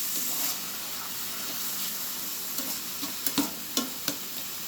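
Oil sizzles steadily in a frying pan while mackerel sauce is prepared, a close hiss with a few sharp pops and clicks toward the end.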